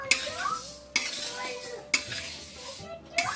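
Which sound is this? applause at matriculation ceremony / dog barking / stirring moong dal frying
stirring moong dal frying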